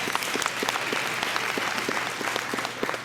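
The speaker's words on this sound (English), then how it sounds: "can we please give you all a round of applause?" Dense, even applause from a large journalism convention audience at a welcoming ceremony, many hands clapping steadily throughout, with faint voices beneath.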